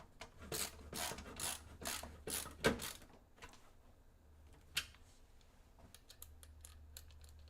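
A screwdriver drives a screw into a PC component during a build with an AMD 7800X3D and RTX 4090, making a quick run of close ratcheting clicks, then a pause and a few softer scattered clicks near the end.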